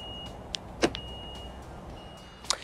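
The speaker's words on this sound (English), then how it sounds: "when you unlock or lock the car, you're greeted with this very shrill beeping sound that comes from somewhere around the rear end" Alfa Romeo Giulia Veloce giving a shrill, high beep from around the rear as it locks, a few short tones heard alone against a quiet background.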